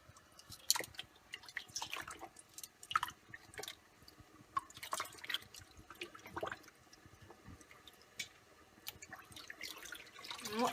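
Dyed wool felt dipped and swished in a basin of cold water, with faint irregular splashes, drips and trickles, close and quiet, with no talking.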